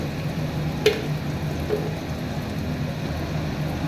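Ginger paste and turmeric fry in a pan for Bengali biulir dal, giving a soft, steady sizzle with one brief clink near the start and no voices.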